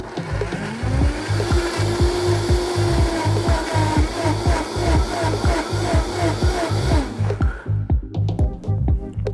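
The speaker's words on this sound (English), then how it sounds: "So in a blender, I'm gonna add in all these things. So blend this up into a paste." A blender grinds mustard seeds and other ingredients into a spicy paste for a Bangladeshi mustard fish curry, a loud steady motor whir with rhythmic thumping pulses, stopping near the end followed by a few clatters.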